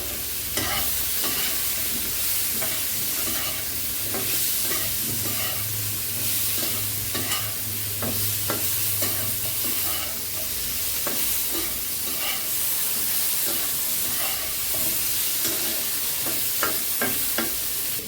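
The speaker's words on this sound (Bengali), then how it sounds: "সবজিটা কষিয়ে নিয়ে পরে মাছ দেবো।" Red amaranth stems and jackfruit seeds sauté in hot oil for a catla fish curry, with a continuous close sizzle and frequent scraping stirs of the spatula against the pan, and no talking.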